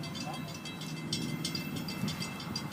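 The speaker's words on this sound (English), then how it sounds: "here's FEC 403, the rail grinder." LORAM rail grinder FEC 403 rolling along the tracks without grinding, a steady low rumble and rail noise throughout with faint high squeals, heard fairly close.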